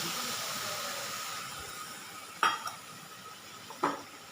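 A spoon stirs coconut flakes and milk in a metal pot while making coconut laddu, giving two distinct clinks against the metal over a quiet, steady hiss.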